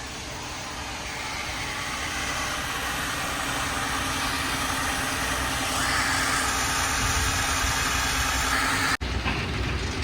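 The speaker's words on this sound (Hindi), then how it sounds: "तो दोस्तों अभी ये वाली बस यहाँ पे आगे आ रही है" A Volvo B8R KSRTC Airavat multi-axle bus idles at a bus wash, a loud steady low engine rumble that swells slightly, with a brief thump near the end.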